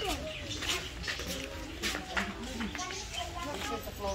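Birds call faintly in a nature and adventure park, with short high chirps and whistles scattered under steady nearby voices and outdoor chatter.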